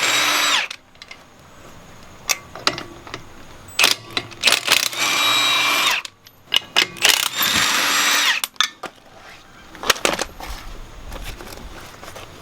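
A power tool zaps 21mm lug nuts off the rear wheel of a 2016 Ford Transit van, firing in loud, sharp bursts separated by brief pauses and quiet clinks.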